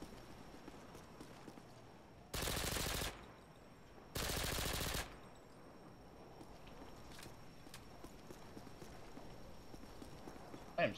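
Two sustained bursts of submachine gun fire in Modern Warfare 2, each lasting under a second, loud and dense against a quieter background of in-game ambience and faint footsteps.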